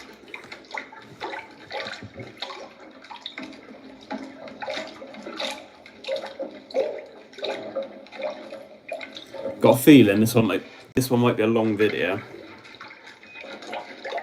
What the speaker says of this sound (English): I just flushed it and it went out there.